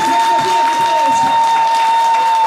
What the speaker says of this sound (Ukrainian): Давайте дамо аплодисменти